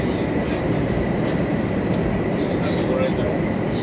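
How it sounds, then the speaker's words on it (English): A Japanese bullet train running from Hiroshima to Onomichi gives a steady, loud, close rumble from inside the carriage, with an even rushing noise throughout and faint voices under it. "if you're in Japan, you have to travel at least once with this bullet train"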